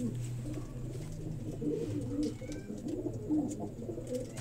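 A breeder pigeon coos softly in low, repeated murmuring calls against a quiet background hum, with no talking.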